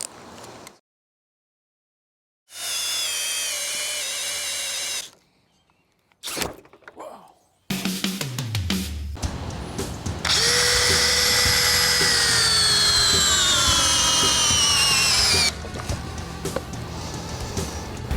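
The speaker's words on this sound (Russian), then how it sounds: "Мощность я буду проверять своим обычным способом, то есть закручиванием вот таких глухарей." A DeWALT 800-series cordless drill with a fully charged Powerstack battery, in first gear and drill mode, drives a large lag screw: bursts of high motor whine that rise and strain under load, separated by pauses and clunks, then a long continuous run.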